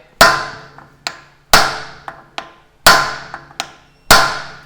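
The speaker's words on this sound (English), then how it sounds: "gonna take a brass hammer, stick it on the end of the stud, and then hit it" A brass hammer set on the end of a steering knuckle stud from an 80 Series Land Cruiser is struck with another hammer: about eight loud, ringing metallic blows, often in quick pairs, each decaying briefly.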